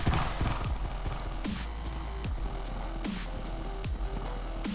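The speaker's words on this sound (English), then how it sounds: "you just kind of race around on horses like this and stuff" Horses gallop in a Minecraft horse race, with repeated rhythmic hoofbeat thuds, a brief whinny and a steady low drone underneath, loud and close throughout.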